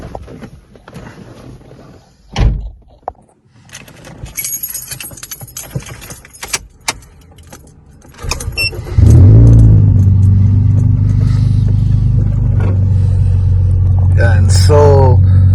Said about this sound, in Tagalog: so while heating up the car